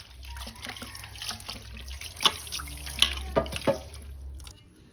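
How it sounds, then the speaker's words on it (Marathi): Tap water runs steadily into a sink as goat offal is washed by hand, with occasional splashes, clinks and handling noises close by. "पहिला धुवून घ्यायचं मस्तपैकी साफ करायचा"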